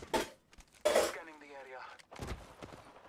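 Gunshots ring out in a competitive online shooter match, a couple of sharp bursts near the start and again near the end, with a player talking over the gunfire.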